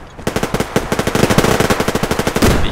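Rapid automatic gunfire in the online shooter Survarium, a loud, close burst of evenly spaced shots that runs for a couple of seconds with no pauses and no talk.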